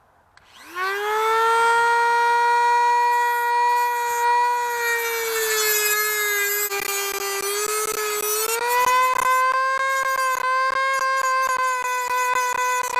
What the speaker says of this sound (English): whatever you want to call these things, rotary tool, little tiny zip disc